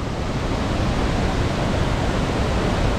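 Waterfall on the Gosaikunda trek during rain, a dense, steady roar of rushing water filling the whole stretch, close and loud with no voices.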